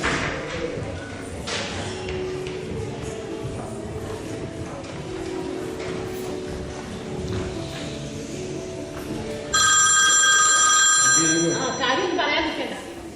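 A telephone rings as a call is placed, a bright repeating electronic tone entering late and continuing over background talk and room noise.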